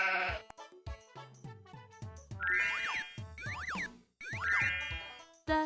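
Electronic toy sounds from a VTech Whiz Kid learning game: several synthesized sheep bleats mixed with springy boing and chiming tones, arriving in quick bursts with short gaps.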